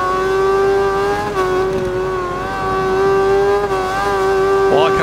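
A 2019 MV Brutale 1000 Serie Oro motorcycle in the RIDE 4 racing game at the Nürburgring, its engine holding a loud, steady high-revving whine with slight pitch dips and rises.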